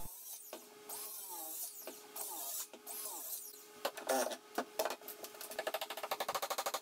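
Cutting notches into plywood for a table saw fence in a workbench build gives a quiet, uneven rasping and buzzing of a tool at work, ending in a rapid rhythmic chatter; no voices.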